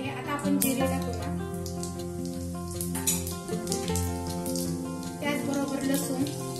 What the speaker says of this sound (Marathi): मोहरी पूर्ण तडतड करायला लागलेली आहे.